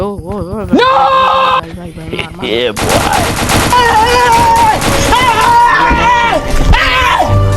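Bomb blasts and rapid gunfire crackle through a zombie video game, bursts of shots and booms arriving loud and dense after a quieter opening, with an excited voice and game music tones layered over the action.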